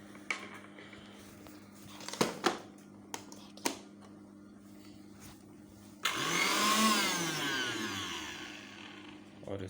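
After a few clicks and knocks, a blender motor starts with a rising whir and runs loudly and steadily, close by.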